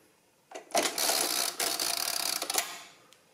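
A Monroe Model F mechanical calculator running its pin-drum carry mechanism: a close, loud whirring clatter of gears that lasts about two seconds and then stops abruptly, with no voices.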